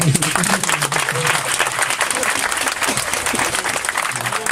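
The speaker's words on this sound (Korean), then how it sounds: "좋은 강의 해주신 교수님께 다시 한번 큰 박수 부탁드립니다" A dense wash of applause from a large audience at a university lecture fills the whole stretch, steady and loud, with a voice speaking faintly underneath.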